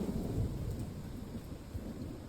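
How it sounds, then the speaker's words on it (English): Steady rain patters on the leaves of a dense tropical forest at night while low thunder rumbles continuously beneath it, a dense and even wash of storm sound with no voices. "Rain patters on leaves in a dense tropical forest. A storm is approaching."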